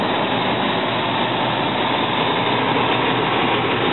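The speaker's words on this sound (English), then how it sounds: "Got the Cummins M11C 6-cylinder diesel engine in it. It is sitting there running and working." A 1998 Ingersoll-Rand 825 CFM portable air compressor powered by a Cummins M11C six-cylinder diesel runs steadily, a loud, constant low diesel drone with no voices over it.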